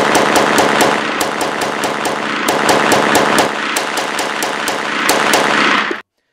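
A 10.1 inch AR pistol fitted with an NG2 Defense AFD muzzle brake fires a rapid, loud string of sharp close gunshots in steady automatic-like rhythm for about six seconds, stopping abruptly.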